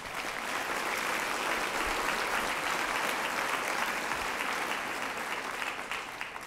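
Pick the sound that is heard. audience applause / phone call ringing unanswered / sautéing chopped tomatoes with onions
audience applause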